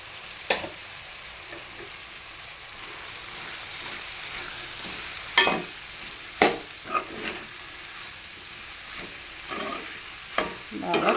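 Capsicum and potato curry stirred in an oiled pan, a steady frying sizzle broken by several sharp scraping clatters of the spoon against the pan.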